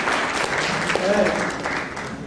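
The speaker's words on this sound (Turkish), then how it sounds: "Bu teyzemizi alkışlayalım." Audience applause for an elderly woman at a conference talk in Sivas, a steady wash of clapping from the hall with a voice briefly heard over it.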